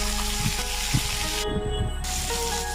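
Chopped mango frying in a pan of hot oil with tempered spices and a little minced ginger, cooking for a mango dal. It gives a steady, moderate sizzle with a low hum and a few soft utensil knocks.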